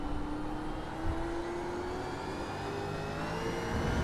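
A Gen 3 V8 Supercar in iRacing at Twin Ring Motegi accelerates hard, its engine note climbing steadily in pitch as it pulls through the gears, loud and continuous.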